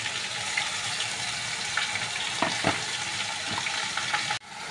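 Spice paste sizzles and spits in hot oil, a steady close frying crackle with a few sharper pops, cut off abruptly near the end.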